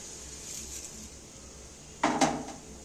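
A utensil stirs a kilo of sugar into salted raw mango pickle for a sweet-sour achar. After a quiet stretch, a short, close scraping clatter sounds against the pot near the end.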